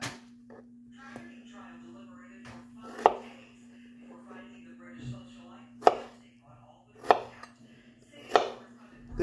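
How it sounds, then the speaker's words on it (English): A knife cuts the stems off strawberries on a board, giving several sharp, close chops spaced a second or two apart over a steady low hum, with quieter handling sounds between them. "Cut this stem off."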